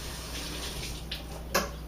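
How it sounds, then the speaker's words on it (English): A kitchen tap runs while hands are quickly rinsed beneath it: soft, steady water flow with a couple of brief splashy bursts near the end, faint and without speech. "Let me rinse my hands very quickly here."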